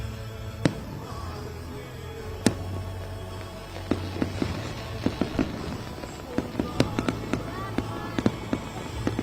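Small fireworks pop and crackle at a Salute to America event in Iowa, scattered sharp bangs that grow more frequent toward the end over a low background hum.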